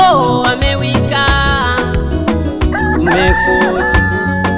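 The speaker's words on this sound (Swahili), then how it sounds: "Jogoo amewika" A rooster crows in drawn-out calls set within a loud song with instruments and voices throughout.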